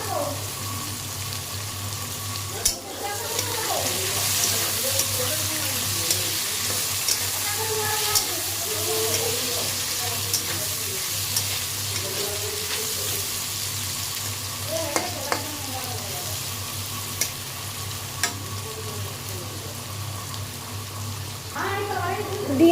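Rice and potatoes fry in a pan with turmeric and chili powder, giving a steady, close sizzle with scraping stirs and occasional clinks, under a voice speaking at intervals.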